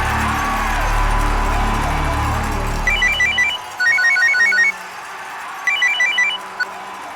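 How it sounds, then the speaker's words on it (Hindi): A phone rings in repeated trilling electronic bursts, three rings separated by short gaps, after a low rumbling background cuts out. "डिकिंसन को फोन लगा।"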